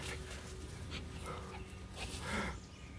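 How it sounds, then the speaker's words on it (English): Several dogs in a garden excitedly hunting a rabbit, with faint barks and whimpers over a noisy outdoor background. "Dogs are going crazy."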